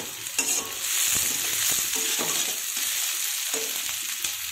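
Chili going into a frying puti fish curry with coriander leaves, with a steady sizzle and scraping stir strokes close up, alone without talk.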